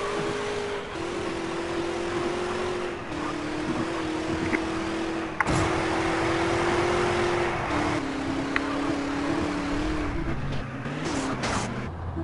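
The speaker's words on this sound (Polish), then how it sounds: "No to więc jedziemy moim autem" Steady hum of a small car driving, its engine tone holding nearly level with slight pitch shifts as it changes speed, moderately loud with occasional clicks and road noise.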